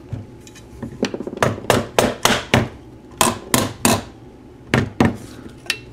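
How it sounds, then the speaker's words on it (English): Hammer blows tapping a part of a Thunderbolt rotator motor into place: a series of sharp, loud metallic knocks in irregular bursts, some quick pairs and triplets, close by with no talking. "Sometimes you might need a hammer to do this."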